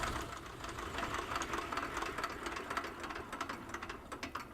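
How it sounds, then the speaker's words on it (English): A recorded airplane engine shuts off and its propeller winds down, giving a steady mid-loud mechanical chatter with rapid clicking rattles that grow sparser and more uneven toward the end, with no voices. "And that's the sound of the propeller spinning to a stop."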